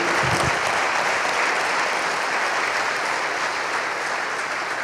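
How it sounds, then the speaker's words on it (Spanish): A church congregation breaks into loud, sustained applause for the King during a sermon, a dense continuous roar of clapping holding steady from start to finish, with a brief low voice fragment at the very beginning. "Denle un aplauso al Rey"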